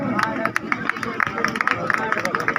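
A village crowd at a kabaddi final in Ghoghadiya, Haryana, claps in a brisk, uneven patter, close and continuous, with voices talking over it.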